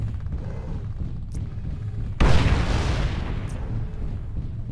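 Weapon fire in the MechWarrior Living Legends game on the TC_Harvest map as a mech shoots at an enemy: a sudden loud blast partway through, then a sustained rumbling roar under a steady low engine hum.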